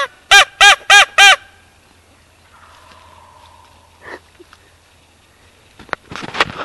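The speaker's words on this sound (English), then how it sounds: "the turkeys are hammering" Wild turkeys in March woods answer a crow call with a burst of four loud, rapid gobble-like honks up close, followed by quiet rustling, a faint distant call, and some clatter near the end.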